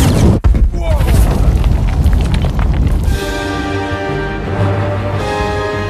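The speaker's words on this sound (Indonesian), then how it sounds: "Thermonuclear explosion." A thermonuclear blast from the film Men in Black International: a heavy, loud booming rumble fills the first three seconds, then gives way to a sustained tonal, musical drone.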